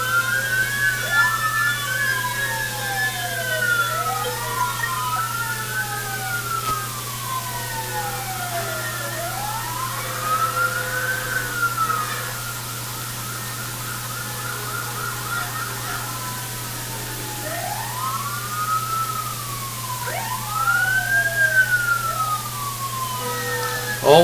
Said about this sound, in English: Always a large lineup of the rescue vehicles, and those horns are really loud.